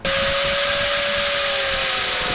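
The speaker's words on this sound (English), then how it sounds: "Nah, alright, cutting more of it off." A power tool cuts through a swaybar link bolt on a Toyota Altezza's front suspension, a loud, steady high-pitched whine holding one tone without a break.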